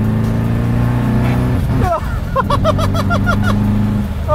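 An 800 hp BMW E30 accelerating hard from inside the car, a loud, steady engine drone that climbs through a series of quick rising shifts, with close-up tonal bursts layered over the roar.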